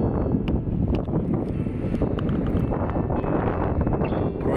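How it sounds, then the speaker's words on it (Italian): Gusty wind buffets the microphone in a steady low roar, with a few faint knocks and rustles in the background. "C'è solo un pochino di vento, ma niente di che."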